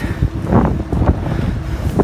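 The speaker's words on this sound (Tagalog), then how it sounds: "Pero mahangin." Steady wind buffets the microphone on a morning bike ride on the Mini Laguna Loop, a continuous low rumbling roar with no voices.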